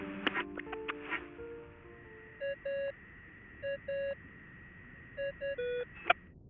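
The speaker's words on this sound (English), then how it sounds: "I really hate that ringing tone." An electronic phone ringtone in the video game Genshin Impact repeats in short groups of steady beeping tones, following a few chimes and plucked notes at the start.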